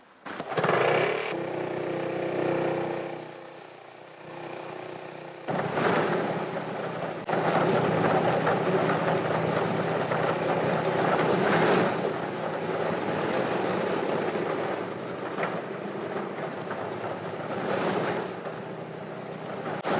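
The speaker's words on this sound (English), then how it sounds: "Tiny auxiliary motor starts each main engine in turn." A 1935 Handley Page airliner's main engines start one after another, each turned over by a tiny auxiliary motor, building to a loud, steady piston-engine drone with surges as each one catches.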